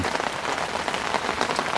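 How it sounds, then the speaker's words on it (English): Heavy rain lashes down outdoors at a fishing spot, a dense, steady hiss and patter of drops striking surfaces that continues without pause and with no one speaking. "As you can probably hear and see, not the best weather in the world to be out fishing in. Lashing it down."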